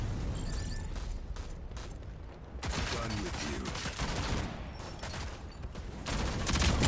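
Gunfire in the video game Rogue Company, fairly quiet rapid volleys and scattered shots mixed with explosion-like bursts, running throughout under faint background sound.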